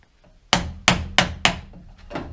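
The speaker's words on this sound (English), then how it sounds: "Kind of line it up, give it a couple of taps." Four sharp hammer taps on a PVC pipe fitting in quick succession, then a couple of softer knocks, close and loud.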